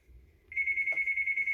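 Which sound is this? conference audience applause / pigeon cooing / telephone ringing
telephone ringing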